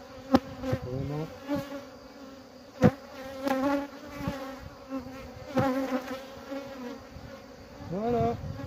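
Honeybees buzz around an opened beehive as frames are set back in, a close, wavering drone with individual bees zipping past in sharp swells and a few soft knocks.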